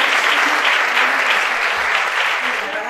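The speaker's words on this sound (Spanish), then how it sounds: "Otro aplauso" An audience at a literary award ceremony claps loudly and continuously, a thick, even wash of applause with no break.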